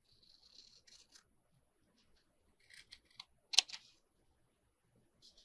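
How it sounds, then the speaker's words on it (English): Scissors cutting a piece of material in half, a few soft snips early then a cluster of sharper close clicks and cuts near the end, quiet with no talk. "Let's see how straight I can cut."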